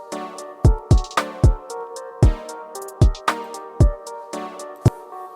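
A trap beat built in LMMS: deep booming 808 kicks and pitched hi-hat rolls over sustained melodic chords, punchy hits in a steady syncopated pattern, clear and upfront with no talking.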